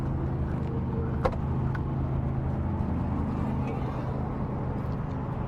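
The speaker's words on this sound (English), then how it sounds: "That's a 20 kW diesel generator." A 20 kW diesel generator, mounted on airbags and insulated, runs inside a luxury coach as a steady low rumble, quiet and even, with a couple of faint clicks over the drone.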